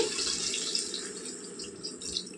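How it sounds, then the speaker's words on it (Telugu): Water poured from a vessel into an Andhra-style raw-tamarind fish curry with small fish, a short, even splashing stream heard alone. "కొద్దిగా నీళ్ళు వేసుకుందామండి."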